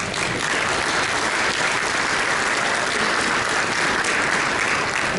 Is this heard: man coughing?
no